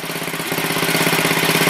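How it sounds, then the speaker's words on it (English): An MTD 700 series riding lawn mower engine runs with its exhaust removed, a loud, close, steady rapid putter of open firing pulses with no talking. "Okay, there she is with the with no exhaust."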